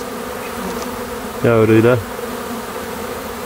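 Honey bees buzz at a beehive, a steady hum with a louder, closer buzzing burst in the middle, and a brief spoken word heard over it.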